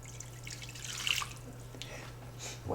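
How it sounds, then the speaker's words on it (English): Water pours and trickles into a pan with light dripping splashes, fairly quiet and steady, with a faint background hum. "we're going to add the rest of the water in,"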